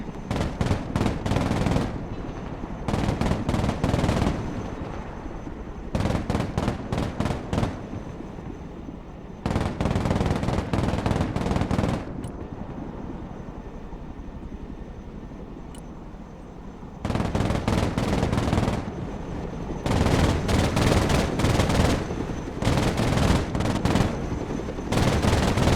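Suppressive gunfire in the war game Broken Arrow comes as loud, close bursts of rapid machine-gun fire in repeated clusters lasting a second or two each, with low rumbling battle noise filling the pauses between them.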